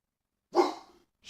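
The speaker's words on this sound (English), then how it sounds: "Who are you barking at?" A dog gives a single sharp bark up close, followed by a brief tail and the start of another bark at the very end.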